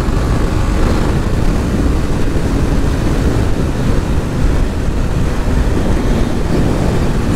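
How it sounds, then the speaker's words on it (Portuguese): A 2024 Shineray SHI 175 motorcycle at top speed, heard as a loud, steady roar of engine and heavy wind buffeting that stays constant throughout. "Top speed que eu consegui nessa moto."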